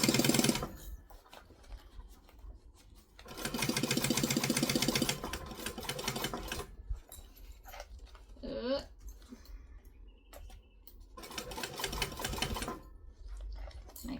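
A sewing machine stitching layers of fabric for a kangaroo toy runs in several loud bursts of steady rapid needle chatter, separated by quieter pauses with handling noise and a short squeaky sound.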